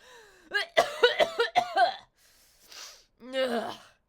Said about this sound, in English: I'm gonna cough and sneeze on you then.